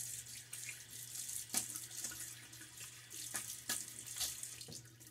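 Tap water runs steadily into a sink while a shaving brush is rinsed, a close, even splashing hiss with a few brief louder spurts, no voices.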